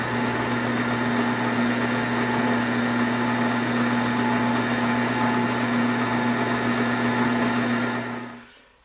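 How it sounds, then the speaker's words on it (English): A drill press drilling 1/2 inch holes in wood drones loudly and steadily with a strong tonal hum and whine, running continuously for several seconds before spinning down at the end. "as I drill these 1/2 inch holes in each one of the pieces"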